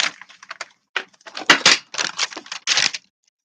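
Book flipped over on a table among glassware, a quick run of close, dry knocks, taps and rustles in irregular bursts over about three seconds, then silence.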